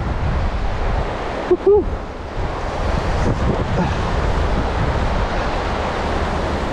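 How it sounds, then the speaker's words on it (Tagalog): Strong wind buffets the microphone in a steady, loud roar near open water, with a brief shout of excitement early on. "Malakas pa yung hangin."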